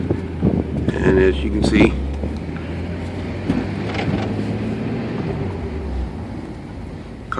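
A Toyota Supra drives along a street with a low steady engine drone, road rumble and wind noise from inside the cabin, while someone talks over it.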